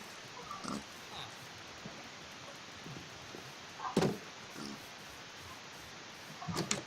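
Pigs in a video game grunt in short, scattered bursts, with a few louder oinks standing out against quiet background ambience.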